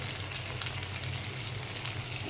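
A pan sizzles softly and steadily as ingredients fry with turmeric and salt, making a faint, even crackle with no talk over it.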